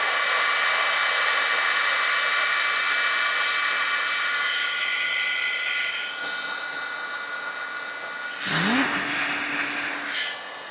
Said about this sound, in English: I'll let my heat tool heat up a little bit.